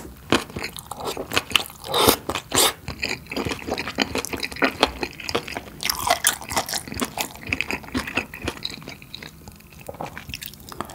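Close, loud crunching and biting on crispy fried pork topped with kimchi pizza-style cheese, with steady chewing and occasional wet sounds across the whole stretch and no talking.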